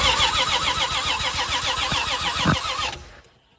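A 1978 Plymouth Volare, left sitting in a junkyard for four years, cranks with a fast rhythmic churning that carries straight into a running engine before cutting off abruptly near the end, with no voices.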